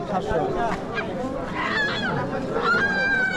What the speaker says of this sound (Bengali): এই পাশে রয়েছে হাঁস রয়েছে কাকা হাঁস